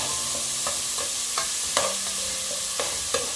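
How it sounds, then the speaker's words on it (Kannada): Chopped ripe tomato fries in a pan for a Mangalorean marwai pundi dish, a soft, steady sizzle broken by several sharp spoon stirs and scrapes at irregular intervals, close and quiet, with no talking. "ಒಂದು ಒಳ್ಳೆ ಹಣ್ಣಾದ ಟೊಮೆಟೊ ನೋಡಿ ಕಟ್ ಮಾಡಿ ಹಾಕ್ತಾ ಇದ್ದೇನೆ ಇದು ಸಾಫ್ಟ್ ಆಗೋವರೆಗೆ ಫ್ರೈ ಮಾಡಬೇಕು"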